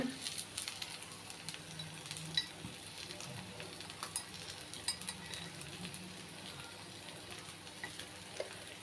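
Sweet potato paniyaram made with millet and ragi sizzle steadily in a pan while they are turned over, with soft scraping and utensil clicks over a continuous frying hiss.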